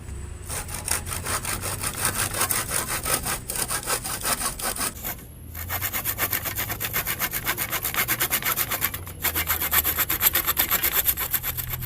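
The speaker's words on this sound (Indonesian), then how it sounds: "sekarang kita potong bagian yang akan dipakai" Hand saw cutting wood pieces for a flower pot table, steady rhythmic back-and-forth strokes, close and loud, with a brief pause midway before the sawing resumes.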